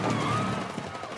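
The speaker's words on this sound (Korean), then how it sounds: "테러범들의 총성이 울려 퍼진" Rapid gunfire from terrorists storming an opera house during a concert in the film Tenet, a dense, continuous volley of shots layered over orchestral music, loud and close throughout.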